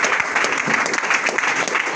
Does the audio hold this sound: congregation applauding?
yes